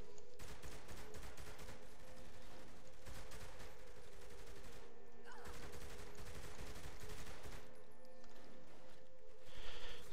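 Rapid gunfire rattles in Saints Row the Third, bursts of shots repeating across a dense game soundscape with a steady tonal hum underneath, fairly close and continuous.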